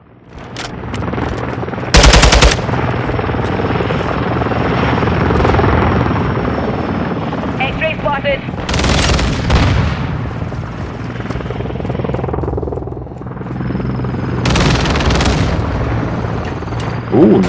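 A helicopter gunship in the video game Call of Duty: Modern Warfare II drones loudly and steadily throughout, with bursts of heavy gunfire and booming impacts cutting through at intervals.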